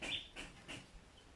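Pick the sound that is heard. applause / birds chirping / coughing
birds chirping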